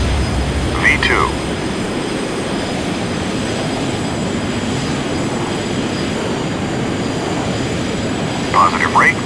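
Jet airliner engines roaring steadily during takeoff in Microsoft Flight Simulator, a loud continuous broadband rumble, with brief chirping alert tones near the start and end.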